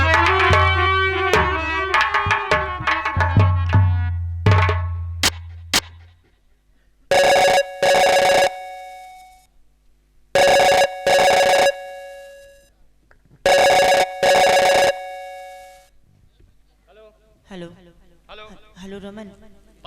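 Telephone ringtone of a melodic musical jingle, then three repeated loud ring bursts with gaps between them, ending in fainter chiming tones.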